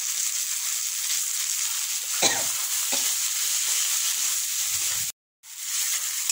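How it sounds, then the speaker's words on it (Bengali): Masala paste with turmeric and tomato frying in oil gives a steady, close hiss, broken by a couple of sharp stirring scrapes and a brief silent gap near the end. "মশলা কষানো হয়ে গেছে একদম।"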